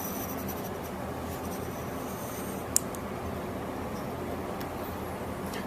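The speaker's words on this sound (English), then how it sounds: "we'll start by setting our compass so that it'll intersect both sides of the angle, and then drawing that arc." A geometry compass drawing an arc across the sides of an angle on paper, a steady, faint continuous scratching of the pencil lead that runs evenly throughout with one tiny click partway through.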